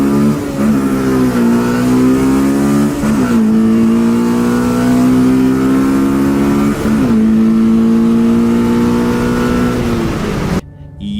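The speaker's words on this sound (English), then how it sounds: "There's something about cracking VTEC and hearing that crossover that's special." A Honda car engine revs hard through the VTEC crossover, climbing and dropping several times with a raspy, rising tone. It is loud and close, with no talking.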